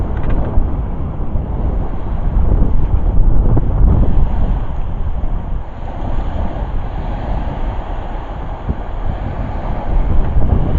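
Lake waves wash onto the shore at Tawakoni State Park with a steady, loud churning rush, heavy wind buffeting the microphone throughout, and no voices.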